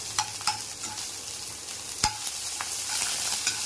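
Banana flower frying lightly with chopped onion, slit green chilli and whole garam masala in a pan: a faint, steady sizzle broken by a few soft stirring clicks.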